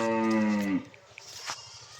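A cow on a Bhola cattle farm with crossbred and local dairy cows gives one long, loud, close moo with a falling pitch, followed by quieter farmyard background noise.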